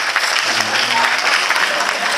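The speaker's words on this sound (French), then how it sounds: "C'est bon, n'applaudissez plus." Audience at a French comedy stand-up show applauds, a dense, continuous burst of clapping that fills the room at close, loud level.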